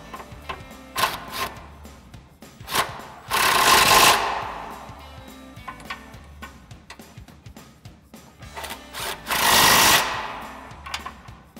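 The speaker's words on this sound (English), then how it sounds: "So now we'll grab our 16 mil socket and an extension on our impact again. We'll go ahead and tighten these down." A 16 mm socket on an extension spins in an impact wrench tightening bolts on a Jeep Wrangler JK suspension lift, heard as two loud rattling bursts of about a second each among lighter clicks and handling noises.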